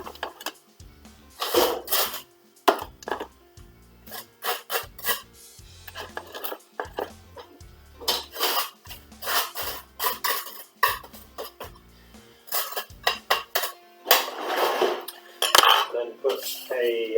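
A knife spreads butter across toast in repeated rasping, scraping strokes with small clinks, close and fairly loud in uneven bursts with short pauses between them, for an eggs Benedict breakfast.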